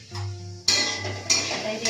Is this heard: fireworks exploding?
no